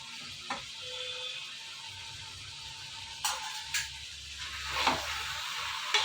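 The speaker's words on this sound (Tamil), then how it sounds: "200 கிராம் தக்காளி இது கூடயே சேர்த்துக்கிறோம். சேர்த்து நல்லா வதக்கி விட்டுறணும்" Two hundred grams of tomatoes sauté in a pan for bachelor-style tumbler dum chicken biryani, a steady low sizzle with occasional stirring clinks, close and fairly quiet.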